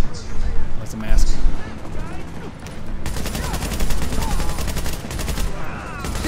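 RPK machine gun bursts in The Division, a video game, fire in rapid repeated volleys amid other gunfire and combat noise, loud and close, with voices talking over parts of the action.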